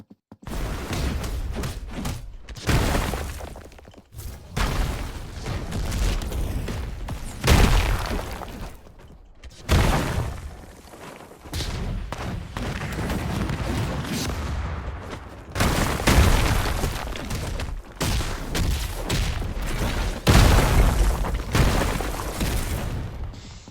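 Explosion attacks from the Explosion Hero character in the Heroes Battlegrounds game, a dense run of loud booming blasts and crackling bursts in rapid clusters, with brief gaps between volleys.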